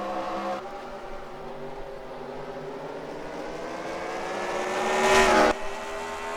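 Stock cars race in a sim racing game on Carrell. Engines drone with steady rising pitch, and a nearer car swells loud and passes late, with no voices over the sound.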